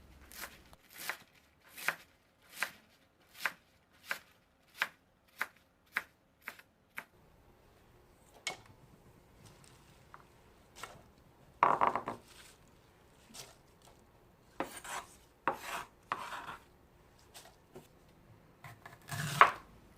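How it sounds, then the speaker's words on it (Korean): Green onions are chopped with a knife for cabbage kimchi, producing a steady run of crisp, evenly spaced knife taps on a cutting board, then a looser, irregular stretch of cuts and scraping without speech. "쪽파는 머리 부분은 쫑쫑 썰어주고요"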